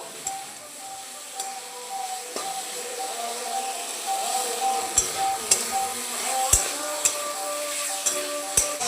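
Cauliflower stalks, eggplant, potato and green chilli frying in a pan for a Bengali chorchori, giving a steady close sizzle with sharp clicks and scrapes of stirring near the end.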